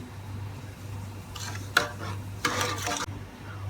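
A spoon stirs a sharbat mixture with half a teaspoon of added salt in a pot, giving short scraping, swishing strokes in bursts over a low steady hum.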